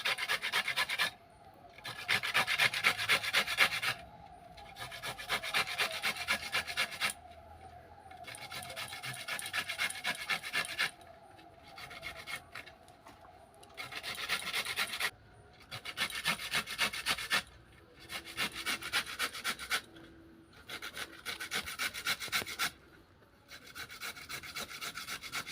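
Beetroot pieces rubbed by hand one at a time, a rough rasping scrape repeated in bursts of a few seconds separated by short pauses, close and fairly loud with no talk.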